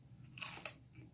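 Crunchy bites and chewing of raw celery, a few crisp crunch bursts close to the mic over a quiet room.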